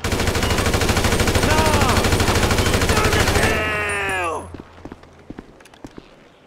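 Rapid automatic gunfire in Grand Theft Auto 5 during Franklin's repossession mission, a loud continuous rattle with whining ricochets that stops abruptly, leaving scattered footsteps and a few isolated hits.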